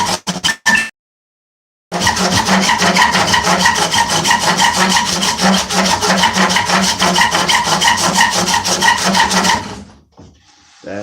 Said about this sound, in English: come back with some sandpaper.